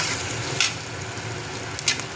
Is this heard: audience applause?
no